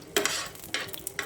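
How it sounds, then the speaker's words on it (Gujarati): Green chilies and peanuts frying in ordinary oil in a pan, with a stirring spoon scraping and clinking against the metal over a soft sizzle, in close repeated bursts. "નોર્મલ તેલમાં ફ્રાય કરવાનું છે"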